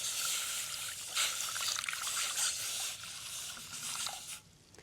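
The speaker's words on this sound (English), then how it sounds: "And then I'm going to put in my water." Water pours into a cooking pot in a home kitchen, a steady splashing trickle that runs for several seconds and then trails off, close and fairly loud.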